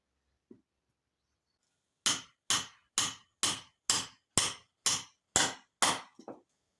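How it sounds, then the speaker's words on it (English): Ten sharp, evenly spaced hammer blows drive a nail into wood during a backyard DIY build, each strike loud and clear with a quick decay, after one faint tap and a short pause. "So with my 2 nails, I'm going to hammer the first one."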